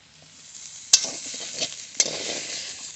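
Broccoli frying in a pan and being stirred, a steady close sizzle with two sharp clinks of the utensil against the pan and scraping strokes between them, no voices.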